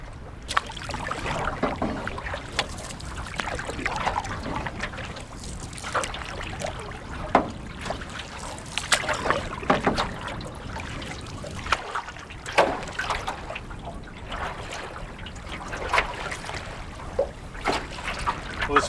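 Choppy lake water slapping and splashing against a small boat, a continuous irregular wash with frequent sharper slaps of waves, close and moderately loud, with no talking.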